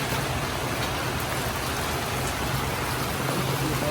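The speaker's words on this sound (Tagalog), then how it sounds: "lumakas ang ulan." Heavy rain pours down steadily, a dense, loud hiss of drops drumming on surfaces with no letup.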